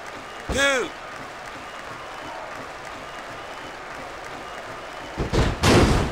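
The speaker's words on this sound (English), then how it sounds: "what a vicious shot from that sledgehammer" A vicious sledgehammer shot in the wrestling game WWE SmackDown! vs. Raw 2006 lands as a heavy, loud impact near the end, followed by a roar of crowd noise over steady arena ambience, after an earlier sharp whooping effect.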